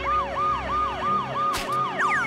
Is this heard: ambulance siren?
yes